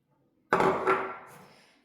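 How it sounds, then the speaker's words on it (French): Butter dropped into a saucepan for melting with chocolate over very low heat for brownies gives one sudden close thud and clatter of pan contact, then a short fading rattle. "je vais mettre le beurre dans une casserole."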